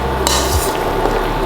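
Ramen noodles stirred in a wok, a close, loud burst of scraping and clattering over steady sizzling, lasting about a second and a half with no talking.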